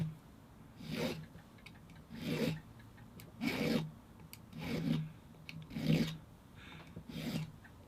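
Hand file rasping across the sharp edges of guitar fret ends during a refret: seven steady, evenly spaced strokes, close and fairly loud, with quiet pauses between and no talking.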